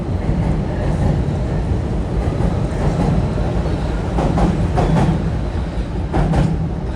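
A fast passenger train, a 3500 series run competing with the Acela Express toward New Haven, rumbles past on track 3 in Harlem, a continuous loud rolling roar with intermittent rail clatter and screeches.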